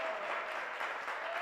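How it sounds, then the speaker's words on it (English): Studio audience applauding as a guest co-host is welcomed onto a local TV show, a steady wash of clapping that holds evenly through the whole moment with no voices over it. "A round of applause for Lauren."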